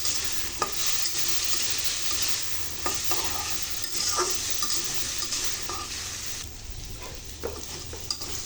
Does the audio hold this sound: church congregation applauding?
no